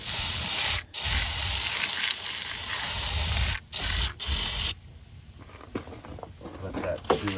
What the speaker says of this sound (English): Right now I'm going to shoot this thing with some degreaser.